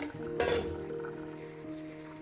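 Chicken sautéed with spices in an uncovered pan, a soft continuous sizzle with a brief clatter of a utensil stirring against the pan early on, no talk.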